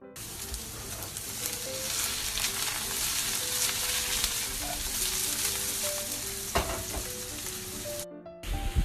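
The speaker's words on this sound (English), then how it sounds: "eggplant is getting nice and brown. I'm going to add some zucchini to this now" Eggplant and zucchini fry in a pan with a steady close sizzle and crackle, a few small knocks near the end before a brief cut.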